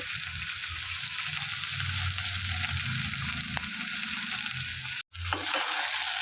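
Okra fries in a pan for a prawn and egg curry, making a steady, close sizzle with soft stirring under it, broken by one abrupt moment of silence near the end.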